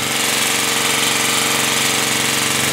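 A Generac G-850 portable generator runs hard under heavy load, its small engine droning loud and steady with a rapid, rough pulsing chatter, close up and unbroken, with no voices.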